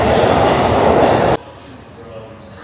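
A train bound for Kamakura, Japan rumbles loudly and close for just over a second before the sound cuts off abruptly to quiet station ambience.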